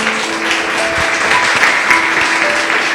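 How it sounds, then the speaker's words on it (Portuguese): Church congregation clapping in praise, a loud close burst of many hands with a couple of faint held tones beneath. "Louve a Deus com as suas palmas"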